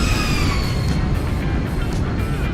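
Boeing 737 (Zibo mod) engines in the X-Plane flight simulator produce a loud, steady droning roar with a faint high whine, holding constant with no speech.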